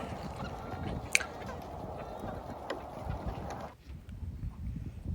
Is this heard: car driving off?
no